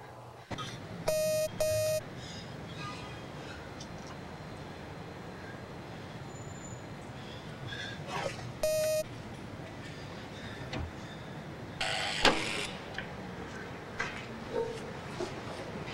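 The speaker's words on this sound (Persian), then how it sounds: "اون تلفنه." A telephone rings in short electronic bursts, one pair of rings early on and another later, in a quiet room scene from an Iranian feature film, with faint background noise between the rings.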